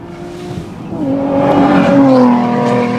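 An MG Cyberster GT engine rises in pitch as it approaches and passes, the loud revving whine swelling and holding near the end.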